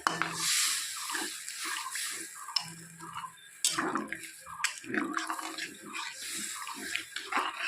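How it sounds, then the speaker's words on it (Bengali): A little water or gravy poured into a pan of aloo dum, with splashing, trickling and dripping sounds that come in short, quiet bursts close by. "এখন দিয়ে দিব ঝোল খুবই অল্প পরিমাণে ঝোলটা দিতে হবে"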